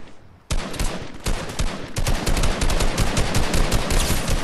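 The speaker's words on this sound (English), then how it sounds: "someone tried to shoot at me." Rapid Fortnite gunfire erupts after a short quiet opening, a loud, dense burst of automatic shots that keeps rattling on close by for several seconds with no talk over it.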